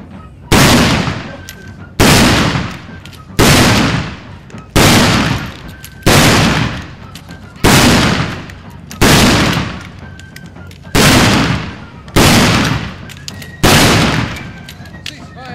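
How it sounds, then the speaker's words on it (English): A rifle squad at a historic fort reenactment fires by file, giving about ten loud, evenly spaced shots roughly every one and a half seconds, each with a sharp crack and a long rolling echo. "Squad fire by file. Commence. Firing."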